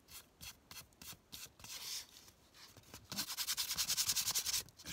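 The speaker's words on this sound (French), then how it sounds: "Je frotte un peu pour enlever ma poudre qui n'a pas été mouillée." Unwetted embossing powder is rubbed off a Christmas tag in short, soft scratchy strokes, quiet and close, followed by a faster run of brisk rubbing.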